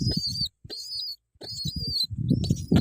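Growing pigeon chick at home gives repeated high, thin peeping calls in short bursts separated by brief pauses, close by, with some low handling and rustling noise underneath.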